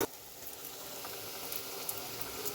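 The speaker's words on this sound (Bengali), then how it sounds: "এইভাবে আমি সবগুলো পাকোড়া ভেজে নিচ্ছি" Corn pakoras fry in hot oil with a soft, continuous crackling sizzle, quiet and even from start to finish.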